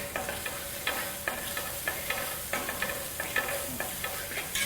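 Turmeric sizzles softly in a hot pan while a spoon scrapes and stirs in a steady rhythm, quiet and close.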